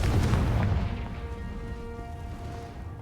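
A Confringo blasting spell in Hogwarts Legacy erupts in a single heavy booming explosion that rolls out and fades, loud and close, over a low game soundscape.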